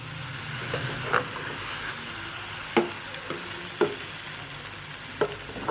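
A spoon stirs spiced pizza cutlet masala with ketchup in a pan, giving a continuous sizzling fry with occasional sharp scraping knocks, close and moderately loud, with no talking.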